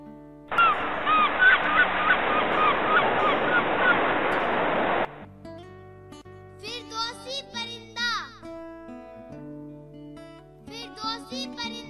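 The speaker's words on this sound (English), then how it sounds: "Seagull" Seagull calls, loud nasal honking cries repeated in bursts with pauses between, following a stretch of steady broadband noise at the start.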